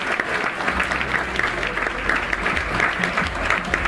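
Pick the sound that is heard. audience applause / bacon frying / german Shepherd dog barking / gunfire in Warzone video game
audience applause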